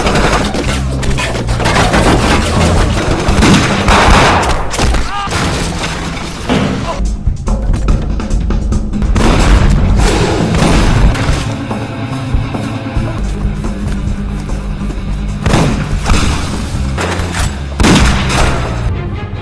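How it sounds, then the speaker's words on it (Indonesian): A police shootout in a Donnie Yen action film brings loud, dense gunfire, with rapid bursts, booms and crashes packed close together across the whole stretch and only brief lulls. "terjadilah baku tembak di sana"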